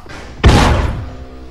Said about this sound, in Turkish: Patladı bir tanesi yerde